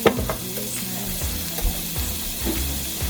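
Herb butter sizzling in a cooking pot, a continuous crackling fry with scraping stirs and occasional clinks of a utensil against the pot.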